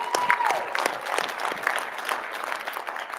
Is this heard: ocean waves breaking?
no